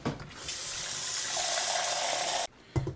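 Water runs from a kitchen tap into a pot for a crab and corn bisque, a loud steady gush for about two and a half seconds that cuts off abruptly, followed by a brief clatter.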